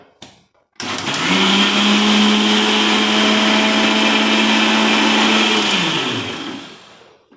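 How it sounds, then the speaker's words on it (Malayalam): A mixer grinder whirs loudly and steadily as it blends curd, starting abruptly after a brief pause, running for several seconds, then winding down at the end, with no talking. "തൈരെടുത്ത് മിക്സിയിലിട്ട് അടിച്ചാൽ ഒരുപോലെ ആവാൻ വേണ്ടിയിട്ടാണ് കേട്ടോ"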